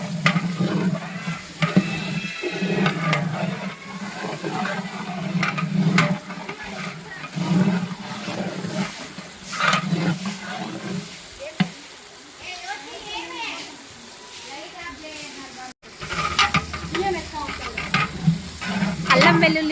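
Ginger garlic paste, onions and green chilies sizzle and fry in a pot for Muslim-style chicken biryani, a continuous loud crackle with stirring scrapes throughout, and a voice talks over parts of it.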